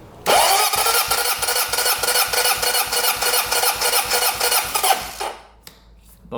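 A Honda CB750 motorcycle engine cranks over on the starter during a compression test with the throttle open, a loud rapid rhythmic churning for about five seconds before stopping.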